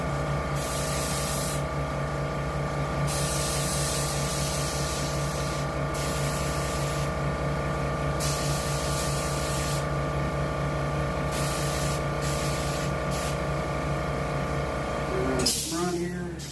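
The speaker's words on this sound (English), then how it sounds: "You don't want to overspray on the teeth too much." Aerosol spray paint hissing steadily onto a coyote shoulder mount, a continuous close spray broken by short pauses between bursts, ending with a brief knock.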